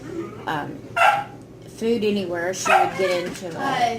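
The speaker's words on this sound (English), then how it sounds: "That's my dog barking in the background." A pet dog barks in bursts in the background of a home, the yaps rising now and then under steady conversation between people talking close by.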